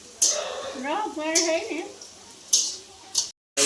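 Masala frying with onions in a pan over a gas stove, a soft steady sizzle with sharp clattering bursts of stirring, while someone talks over it.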